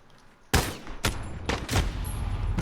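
An AN-94 rifle in Call of Duty Modern Warfare fires in burst mode: loud, sharp shots come in quick clusters, with a short pause between bursts and a lingering echo.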